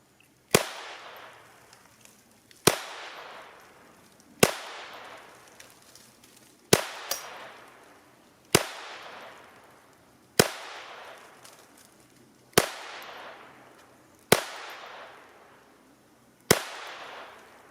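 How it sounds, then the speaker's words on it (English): A Taurus TX22 pistol fires cheap bulk ammunition: nine loud, sharp reports spaced about two seconds apart, each ringing out and decaying before the next shot. "Magazine 10, no malfunctions. I shot fast."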